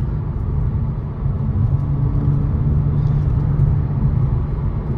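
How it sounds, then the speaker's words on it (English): Steady low engine rumble and road noise from inside a 2008 Porsche Cayman S while driving, constant and moderately loud with no talking. "the car has no issues driving whatsoever"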